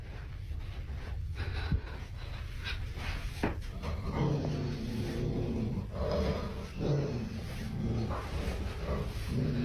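A pet dog in a Florida house growls low and rumbling in uneven bursts, with snorting breaths and a few sharp knocks, fairly close and without talk.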